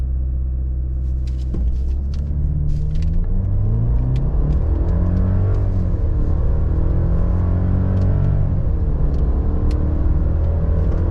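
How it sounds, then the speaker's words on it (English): A 2026 Chevrolet Silverado with the 2.7L TurboMax engine roars through a brake-rev boosted launch in sport mode, the engine rumbling loud and close from inside the cab as revs climb, drop at a shift, and climb again. "Boosted launch in the TurboMax."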